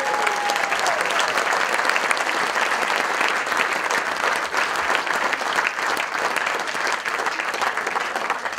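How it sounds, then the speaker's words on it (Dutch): Sustained, dense applause fills a volunteer award ceremony in Oldenzaal as the prize is handed over, loud and even throughout with no break. "Maar proficiat en een hartelijk applaus."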